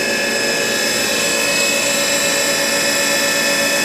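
A 2002 Haas TM-1 CNC mill spindle spins steadily at 3,500 RPM under virtually no load, giving a continuous, even mechanical whine and hum that holds close and unchanged throughout.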